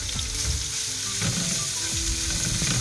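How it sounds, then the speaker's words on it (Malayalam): Chopped onions sauté in a hot pan for South Indian vermicelli upma, giving a steady close sizzle with faint scraping clicks as they are stirred, and no voices. "ഇനി അതിന് ശേഷം നമ്മളതിലേക്ക് നമ്മൾ അരിഞ്ഞു വെച്ചേക്കുന്ന സവോള ഇടാം"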